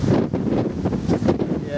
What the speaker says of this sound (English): This wind is ridiculous. It's windy as shit.